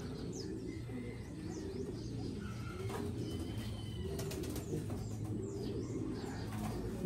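Racing pigeons cooing in a loft, with soft low repeated coos, some chirps and occasional wing flaps, faint and steady over several seconds.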